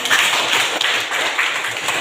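A classroom of students breaks into brief, dense applause, many hands clapping together in a crisp burst that carries on for a couple of seconds.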